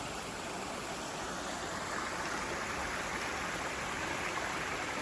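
Surface water runoff from a landfill property flows as a stream into the Ammonoosuc River, giving a steady, close rushing wash with no breaks and no voices.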